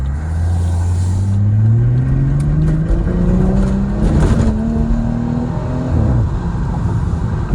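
BMW 440i Gran Coupe xDrive on night streets in Baltimore, engine revving hard through rising gear pulls as the car accelerates and loses traction, a loud close exhaust roar with shifts and brief tire-slip bursts.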